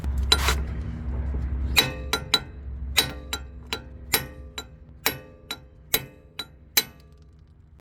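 A hammer strikes a front wheel stud on a Mazdaspeed 3 hub about a dozen times, each blow a sharp, ringing metallic crack at a steady, fairly quick pace, close and loud, after a brief low rumble at the start.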